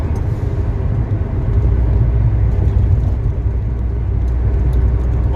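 A turbocharged Fiat 20v car accelerates, a loud close engine rumble that swells and holds as it pulls through a gear with a heavy low roar.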